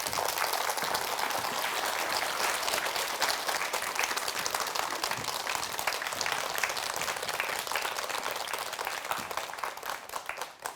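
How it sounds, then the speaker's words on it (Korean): A large audience claps steadily to welcome a speaker on stage at a televised lecture about habits, the dense applause staying loud and even throughout before thinning slightly at the very end. "김종삼 대표님을 큰 박수로 모시겠습니다."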